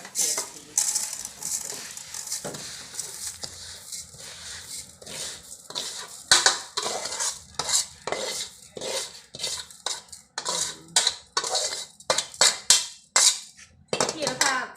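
Rice being stir-fried for Thai chicken rice in a large pan, with rapid irregular scraping, clinking and rattling of a metal utensil against the pan, moderately close, and a voice speaking intermittently.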